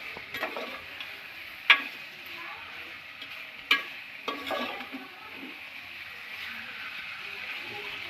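Prawns cooking with chopped onions in a pan, stirred with a few distinct scraping clacks over a faint, steady sizzle; no one speaks.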